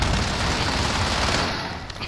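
Rapid automatic gunfire rattles loud and dense through a search-and-destroy round in a 3-on-3 first-person shooter match, a continuous burst of shots that eases off near the end.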